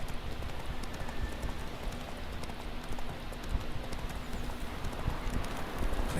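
Horse hooves galloping in The Witcher 3 video game, a fast, rhythmic clip-clop pattern that runs steadily throughout at moderate level over a soft ambient background.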